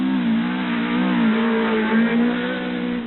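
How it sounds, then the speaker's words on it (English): A red, white and green Datsun rally car on a 1983 NSW rally stage roars past at full throttle, its engine note loud, close and sustained with slight pitch shifts as it accelerates. "the red, white and green Datsun bursts into sight and races to the end of the section"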